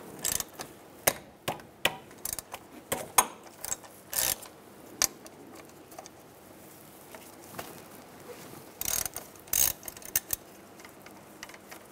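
Ratchet with a 13 mm socket loosening front brake caliper bolts on a 2002-2005 Chevrolet Trailblazer: quick bursts of sharp clicking, repeated in short separate runs, close and clear, with quiet gaps between.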